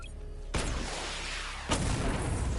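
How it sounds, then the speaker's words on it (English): A video game missile barrage lands as two sharp booming impacts, the second about a second after the first, each trailing into a rumbling wash of noise. "Destroy targets to charge up weapon energy and activate missile barrage"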